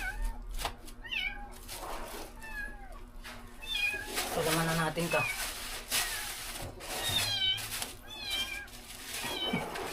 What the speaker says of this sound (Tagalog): Umiiyak yung pusa.